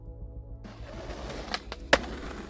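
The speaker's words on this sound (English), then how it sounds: "skateboard ollie sound." Skateboard ollie played as an in-game sound effect, with rolling wheel rumble followed by a sharp board pop and a crisp clack.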